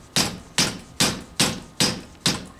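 A hammer drives a greased part into holes on a Suzuki Bandit 1200 motorcycle. Six crisp, close strikes land at a steady pace of roughly 0.4 seconds each, every one decaying briefly before the next, with no voices.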